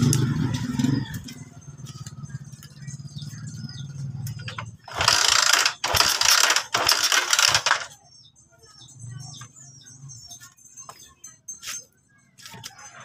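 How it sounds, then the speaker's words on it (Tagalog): A Rusi 125 motorcycle with new wiring and a power fault is cranked but fails to start, giving a few bursts of harsh mechanical grinding and clattering between quieter stretches of low rumble and small clicks. "So, i-try nating paandarin yung motor."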